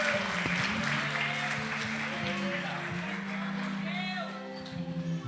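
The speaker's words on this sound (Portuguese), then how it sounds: "E a igreja aplauda ao Senhor nesta noite." A church congregation applauds steadily in a large room, sustained clapping under a sung or spoken voice and organ-like tones.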